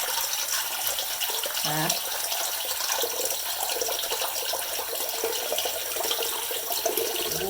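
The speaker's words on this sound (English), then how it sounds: "So I'm using a little bit of hot, but mainly cold, so you kind of want it lukewarm." A faucet runs a mix of hot and cold water into a sink, a steady broadband rush that lasts throughout at a fairly even level, with a brief spoken word partway through.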